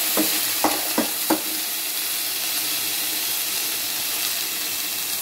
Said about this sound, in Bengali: আলু কড়াইশুঁটি গ্যাসের ইয়েটাকে কমিয়ে নিই, একটু ভেজে নেব